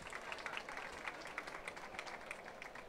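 Audience applause welcoming a speaker onto the stage at a tech and impact event at VivaTech, a steady, dense wash of clapping from a large crowd, somewhat distant and even throughout.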